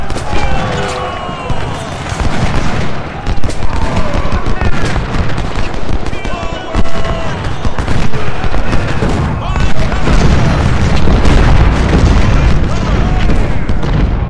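Deep booms of artillery cannon fire roll out over and over through a Civil War battle in the Ultimate General strategy game, stacking up into a dense, loud barrage with a few crackling shots mixed in.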